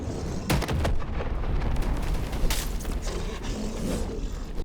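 The Demon Overseer's attack cue in the video game Dark and Darker: a series of sharp mechanical bangs and cracks over a rough, grinding rumble, loud and close across the whole span.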